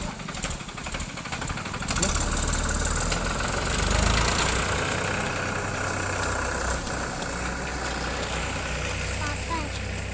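A tractor engine runs with a steady, knocking idle-like chug on a gravel village road, close and continuous throughout, with a brief louder swell partway through.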